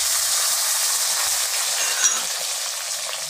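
Chopped onions fry in oil in a pan, making a loud, continuous hiss of sizzling that holds steady throughout, close up and with no talking.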